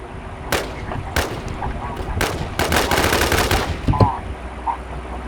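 Rapid bursts of gunfire in a multiplayer PVP shooter game, sharp repeated shots in quick volleys over a steady background hum, with scattered single cracks between them.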